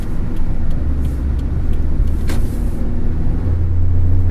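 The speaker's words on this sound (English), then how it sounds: "as far as road noise goes, I'd say it's about average. You can definitely hear all the sounds of the road" Steady low road rumble and tire noise fill the cabin of a 2009 Toyota Corolla while driving, a continuous broadband drone with a faint hiss and no talking.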